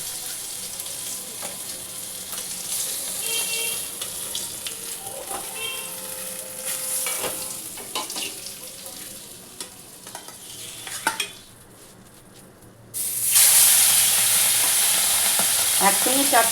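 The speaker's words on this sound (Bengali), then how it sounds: "মাছগুলো বন্ধুরা ভালো করে আগে ভেজে নিই।" Pomfret fish, two at a time, sizzle and spatter in oil at close range. The frying quiets briefly near the end, then bursts back into a loud, continuous crackle with no one speaking over it.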